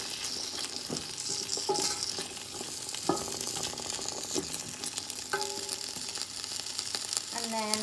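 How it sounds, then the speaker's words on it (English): Chicken and vegetable fried rice is stir-fried in a hot pan, with a dense, steady close sizzle broken by repeated metallic scrapes and clanks of a utensil against the pan. "Mix as we go."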